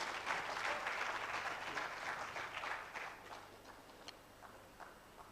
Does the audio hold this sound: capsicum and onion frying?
no